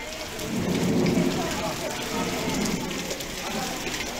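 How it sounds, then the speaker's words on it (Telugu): Heavy rain with thunder during a storm over Hyderabad, a dense, loud continuous roar of rainfall with a low rumbling swell near the start. "అంబర్పేట్, ముషీరాబాద్, చిక్కడపల్లిలో ఉరుములు మెరుపులతో కూడిన వర్షం పడింది."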